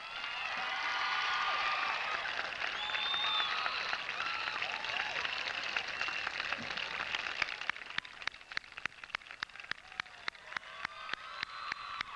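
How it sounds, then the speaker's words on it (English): Audience applause at a Class of 1994 commencement ceremony: a dense, sustained wash of clapping with a few whistles and cheers, thinning after several seconds into scattered individual claps. "you deserve a round of applause for the job that you did this year"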